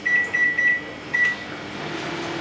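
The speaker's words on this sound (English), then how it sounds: "I put it in the microwave for something like 3 to 4 minutes basically." A microwave oven runs with a steady hum while heating food, a thin high whine over it and a few brief beeping tones near the start, all alone without talk.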